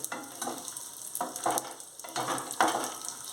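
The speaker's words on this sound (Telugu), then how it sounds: "చక్కగా గోల్డ్ కలర్ వచ్చే వరకు మంచిగా వీటిని రోస్ట్ చేసి పెట్టుకోవాలండి" Ingredients roasting in ghee until golden for kodo millet payasam, a continuous close sizzle swelling with repeated stirring strokes, roughly four surges over a few seconds.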